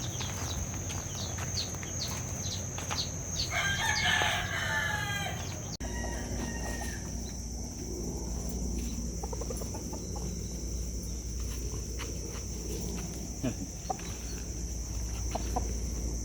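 Roundhead gamecocks cluck and squawk nearby over a steady background hum, with a louder burst of calls partway through and scattered clucks continuing.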